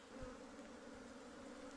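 Wild ground-nesting bees swarm out of a nest being dug from the soil, a steady close buzzing drone with no voices.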